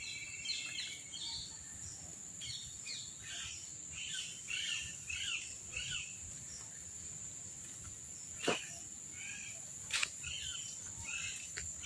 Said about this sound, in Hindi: चिड़िया की चहचहाट जो है वो आपको यहाँ पर भली बातें सुनाई देगी